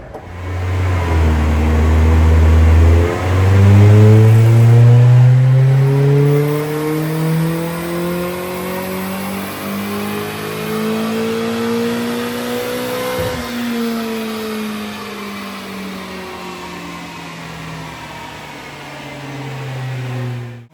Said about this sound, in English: Let me give this thing a crank.